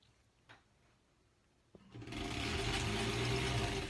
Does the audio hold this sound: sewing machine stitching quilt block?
yes